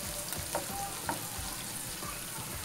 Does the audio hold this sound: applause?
no